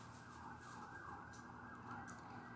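An ambulance siren in a video game wails in repeating rising and falling sweeps as the vehicle drives by, steady and moderately loud over low road rumble, with no speech.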